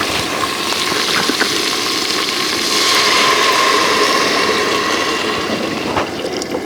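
Water pours steadily into a camp cooking pot holding peppers, tomatoes, onion, garlic and ginger, a continuous close rushing splash for several seconds with no voices.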